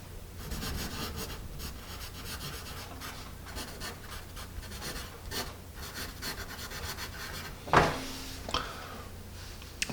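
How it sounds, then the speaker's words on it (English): Steady dry scratching of a Paper Mate Mirado #2 HB pencil moving across paper, close and continuous, with a sharper scrape near the end. "Perhaps you can hear a certain amount of scratchiness."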